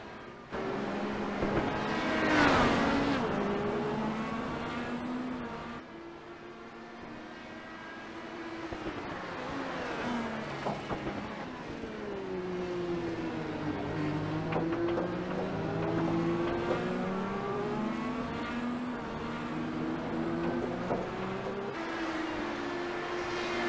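Race car hot lapping at Barber Motorsports Park, its engine droning steadily through shifting pitch sweeps as it passes, with a louder surge early on and no talk.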